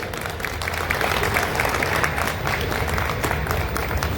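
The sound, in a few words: audience clapping for a poet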